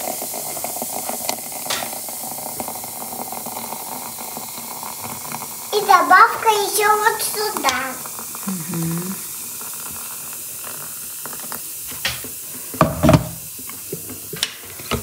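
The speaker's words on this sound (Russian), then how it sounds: "Смотрите сразу же, какое шипение начинается." A steady hiss of boiling water being poured runs throughout at moderate level, with a person speaking briefly in the middle and a few clinks.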